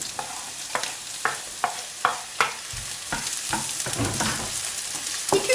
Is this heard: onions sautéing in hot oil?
yes